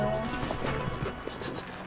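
Mountain goats in a video game bleat in a short, wavering cry that sits over a steady background wash of game sound.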